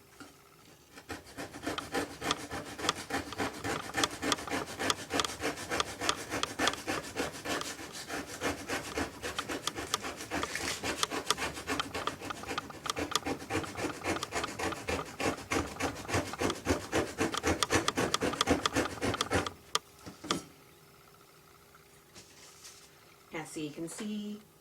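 Someone scrapes the back of a mirror for a haunted mirror project, making a dense, continuous rasping scrape for about twenty seconds that stops abruptly before faint talk near the end.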